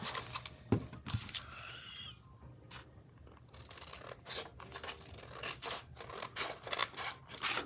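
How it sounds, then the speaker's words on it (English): Paper being cut with scissors while making a junk journal, giving close, intermittent snipping and rustling strokes in a quiet room, alone with no talking. "I'm just going to go ahead and cut it."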